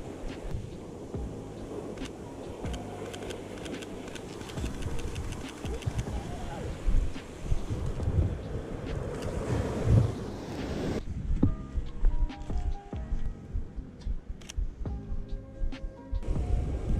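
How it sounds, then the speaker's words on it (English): Foamy ocean waves wash and surge along the Tenerife coast under steady wind buffeting the microphone, a continuous loud rush, with no voices. "Ooh, that is some nice foamy water."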